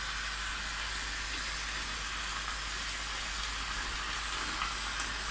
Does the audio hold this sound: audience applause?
no